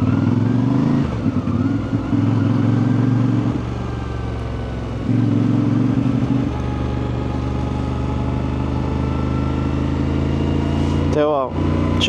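A motorcycle engine hums steadily while riding, a loud droning note that rises and eases between bursts of throttle, heard close with wind, and a voice talks over it for much of the time.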